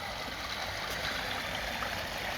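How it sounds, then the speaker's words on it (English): A koi pond waterfall splashes and trickles in a steady, soft hiss of running water, even and unbroken, heard fairly faintly outdoors with no talking. "And as you can see, I've managed to finish the waterfall."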